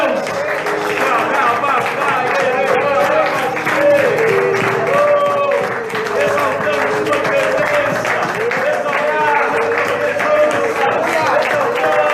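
A church congregation applauds continuously during worship at a revival service, steady clapping blended with crowd voices and singing for the whole stretch.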